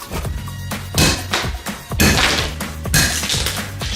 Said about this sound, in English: Shatters. That used to be a tomato.